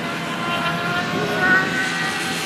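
Spec 50 mini GP motorcycles racing in a tight pack, a steady high-pitched buzz of small two-stroke engines droning continuously with a slight swell midway, no voices.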